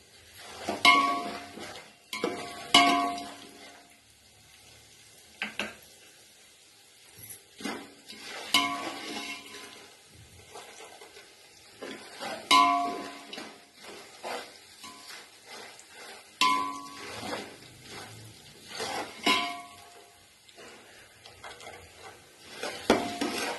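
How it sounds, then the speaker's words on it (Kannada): Tempering sizzles in a pan for puffed rice churumuri as a spoon stirs and clinks against the metal in short, repeated bursts with quiet gaps between them. "ಒಗ್ಗರಣೆ ಆಗಿದೆ"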